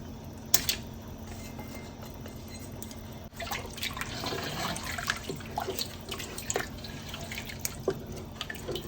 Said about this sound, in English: And I'm going to use 1 cup of organic Thai coconut milk.